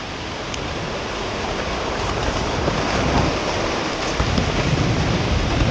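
Light drizzle falls at the seashore, a soft continuous patter blended with the low rolling wash of surf, steady and slightly swelling, with no talking.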